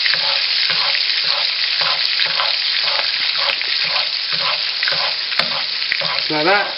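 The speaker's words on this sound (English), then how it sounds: "as you're spooning this oil on the fish, that oil going through the fish, coming back out with much more flavour" Salmon fillet frying meat side down in hot oil in a pan, a loud continuous sizzle broken by rhythmic scraping and spooning as oil is basted over the fish, with a brief spoken remark.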